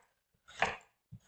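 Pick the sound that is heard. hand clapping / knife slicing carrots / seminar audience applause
knife slicing carrots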